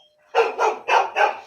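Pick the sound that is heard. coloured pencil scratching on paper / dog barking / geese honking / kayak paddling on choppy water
dog barking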